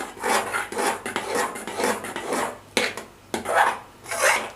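Batter being stirred in a bowl for a chocolate-sauce-soaked cake: a close, scraping swish in repeated rhythmic strokes with short pauses, loud and alone.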